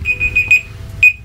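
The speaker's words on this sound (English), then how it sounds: "that's my alarm." Electronic alarm chirping in a quick run of four short piercing beeps, then one longer beep after a brief pause, loud and close.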